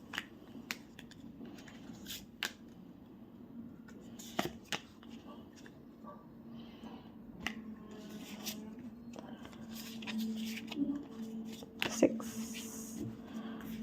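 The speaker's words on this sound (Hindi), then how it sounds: "तो चलिए यहाँ पर हम पुल करेंगे आप लोगों के लिए कार्ड्स।" A deck of tarot cards is shuffled and handled close up in a quiet room, with soft riffling, light flicks and taps of cards, and a faint low hum underneath.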